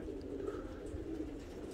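Pigeons coo softly outside a loft on a fine day, low and fairly faint over a steady outdoor background, with no voices.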